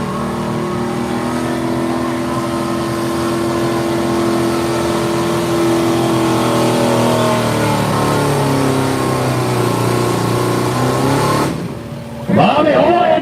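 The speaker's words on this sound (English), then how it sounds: "on the hook, out of Churchville, Bobby Hoy, 82 model Chevrolet" A 1982 Chevrolet pulling truck at a truck and tractor pull roars loudly with a sustained, rising engine rev as it pulls, ending in a sharp drop and a brief final burst; an announcer talks over it.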